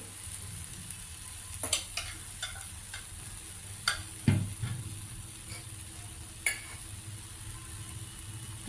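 A millet dosa cooks in oil on a pan with a soft, steady background sizzle broken by occasional spatula taps and scrapes, one louder knock near the middle, and no speech.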